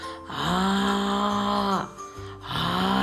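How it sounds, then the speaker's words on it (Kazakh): A bear roaring in long, deep, rough bursts, two loud close roars separated by a short breath, alone without other sounds. "Аю ақырады."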